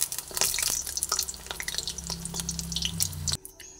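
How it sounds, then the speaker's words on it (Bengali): Oil drips and light sizzles as fried teasel gourd fritters are lifted one by one from a hot pan, with small spatula clinks and crackles, close and steady before the sizzling drops off abruptly at the end. "সেই জন্য আমি তেল ঝরিয়ে ঝরিয়ে বড়াগুলোকে এরপরে তুলে ফেলব।"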